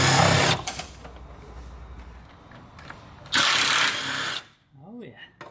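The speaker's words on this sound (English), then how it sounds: "I will undo this bolt, the nut, and the nut on the bottom right here." A power tool whirs in two loud bursts, undoing a bolt and nuts on a Mercedes OM642 diesel engine during injector removal. Quieter rattling comes between the bursts, and a brief voice follows.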